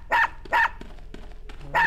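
A dog in the retro dungeon game Unepic barks three times, sharp close yaps spaced irregularly with quiet gaps and faint blips between them.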